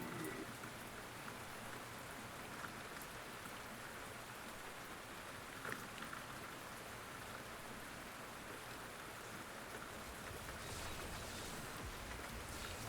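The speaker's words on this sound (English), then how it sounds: "I thought about putting some rain and like storm sounds in the background." Steady rain and storm ambience plays as a background sound effect behind a Diablo III playthrough. The hiss is broadband, even and continuous, with faint drips and no voices.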